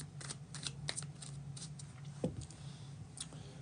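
Tarot cards are shuffled close by, giving soft, irregular crisp clicks and riffling flutters at low volume with no talking.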